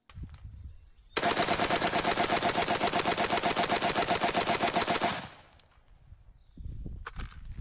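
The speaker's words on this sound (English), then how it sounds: "both myself and Clean have clear counterexamples of rapid semi-auto fire" Rapid semi-automatic gunfire from a rifle, a fast even string of sharp close shots lasting about four seconds, with quieter handling sounds before and after.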